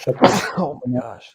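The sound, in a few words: sneeze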